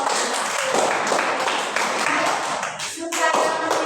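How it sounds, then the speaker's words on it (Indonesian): A classroom group claps together for a student group, a dense steady patter of many hands close by that carries on for about four seconds with a brief dip near the end. "tepuk tangan buat kelompok"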